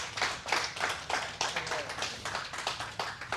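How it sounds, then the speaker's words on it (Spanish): A church congregation applauds during an evening gospel service, with rhythmic, fairly loud clapping in a steady beat and faint voices underneath. "vamos a dar un gran aplauso a la presencia de Dios"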